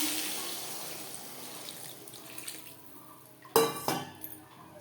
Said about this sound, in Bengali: মশলার সাথে বেগুন বেশ ভালো করে কষিয়ে নেওয়ার পর দিয়ে দেবো জল